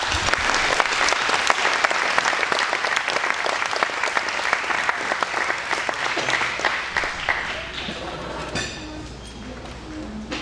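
An audience applauds Dr. Warren Taff at a CarePossible lunch event. The clapping is dense and sustained for about eight seconds, then thins and fades.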